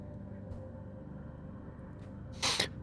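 A single short sneeze bursts out near the end over a steady low room hum during a tabletop role-playing game session.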